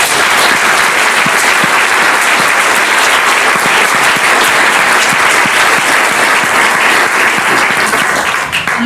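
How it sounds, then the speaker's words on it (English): A full, dense round of applause from an audience at a community health event, loud and steady throughout without letting up. "Can we just give a round of applause?"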